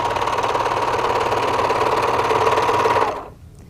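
A serging machine sews along the edge of drapery fabric, trimming and binding it in one pass, with a fast, even mechanical hum and rattle running steadily for about three seconds before stopping.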